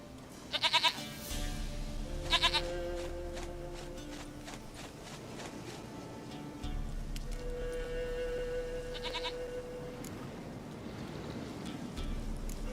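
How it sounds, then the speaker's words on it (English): Goat bleating in The Witcher 3 video game: a few short, loud bleats near the start, then longer drawn-out calls over a low rumbling ambience. "Goat of mine, dearest, sweetest goat."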